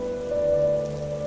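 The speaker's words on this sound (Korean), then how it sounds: "세상을 적시는 빗소리가 들릴 때면" Rain falling in an audio drama scene, a dense steady patter on a surface, close and continuous over a low sustained tonal hum, with no voices.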